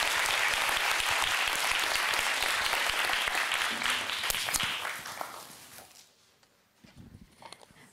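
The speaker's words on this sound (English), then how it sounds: "let's give a big hand of applause to Professor Jamarilian." An audience applauds a professor at the close of a scientific meeting session, a loud, dense burst of clapping that gradually dies away, followed by quieter room sounds.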